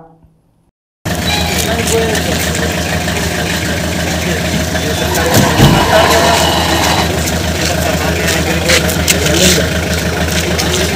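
A tractor engine runs loudly and steadily while towing a Bolero to a police station after a village accident. A continuous close rumble with a slight swell midway.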